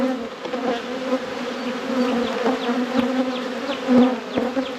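Honey bees swarm around an opened deep hive during a post-winter inspection, a dense droning hum with a strong steady pitch and individual bees zipping close by, loud and continuous with no talking.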